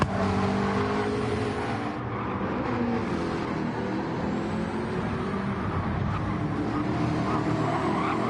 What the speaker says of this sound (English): Murcielago getting it really sideways coming around that corner, which won't do his tyres any good